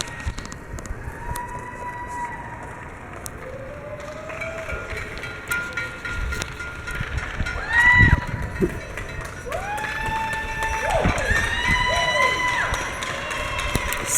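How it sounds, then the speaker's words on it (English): New Yorkers in Manhattan yell, scream, whistle and clap at seven o'clock, the cheering echoing from surrounding buildings at a distance, swelling in waves with shrill whoops and scattered applause over street hum. "by yelling and screaming and clapping"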